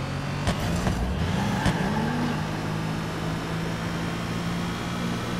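In Watch Dogs 2, a car's engine drones steadily as it drives, a continuous rumble with a rising tonal whine and a few sharp knocks early on.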